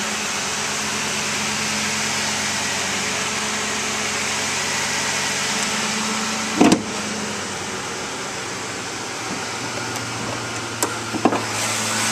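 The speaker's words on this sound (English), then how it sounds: "This truck sounds great and it runs very smooth." A 2007 Ford F-150 pickup engine idles steadily and smoothly with a low, even hum throughout, broken by a brief clunk midway and a couple of small knocks near the end.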